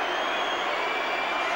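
A big Murrayfield crowd at a 1993 Rugby World Cup Sevens match roars in a continuous, dense wash of cheering, filling the stadium without a break.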